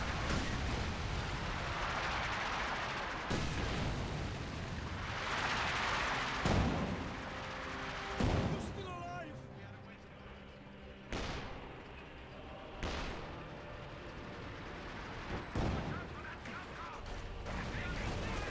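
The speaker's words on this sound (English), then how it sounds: "great incendiary light barrage. Lots of good damage there." An incendiary light artillery barrage in a Company of Heroes 2 match: a string of heavy, booming impacts and crashes spread across the stretch, some loud and some more distant, with a commentator talking over them throughout.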